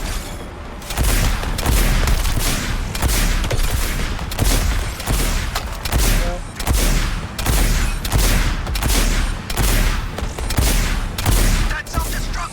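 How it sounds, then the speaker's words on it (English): Explosions in a video game go off in a rapid, loud series of sharp blasts roughly every second, like a fusillade, keeping up a steady barrage from start to finish. "More explosions."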